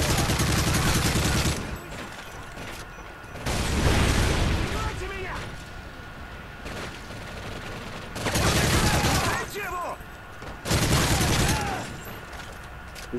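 Call of Duty Modern Warfare 3 Special Ops gunfire in loud, repeated bursts of rapid shots separated by quieter stretches, with combat noise and voice chatter in between.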